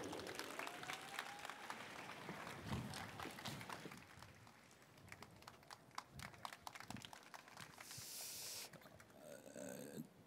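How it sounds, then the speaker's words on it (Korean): Audience applause at an outdoor memorial rally held in Gangnam. Steady clapping runs throughout, fairly distant and moderately loud, and a few louder accents stand out. "따뜻한 박수, 힘찬 박수 부탁드립니다"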